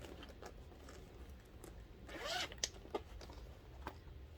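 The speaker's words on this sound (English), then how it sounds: "the only thing it has is this zipper" A leather bag's zipper is pulled open in one quick run, followed by a few soft clicks and handling noises, close and fairly quiet.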